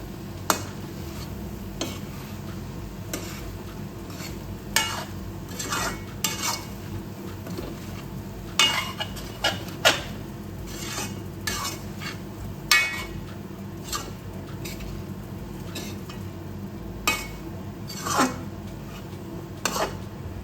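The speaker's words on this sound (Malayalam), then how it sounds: "ഇതെല്ലാം ഒന്ന് നല്ലതുപോലെ മിക്സ് ചെയ്യാം." A spice mixture of chilli powder and coriander powder is stirred in a pan, with a spoon knocking and scraping the metal in repeated irregular strokes over a low frying hiss, close and clear.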